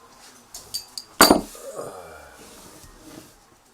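A bottle of oatmeal stout beer is cracked open with a sharp clink and hiss, followed by faint liquid pouring sounds, close and alone without talk.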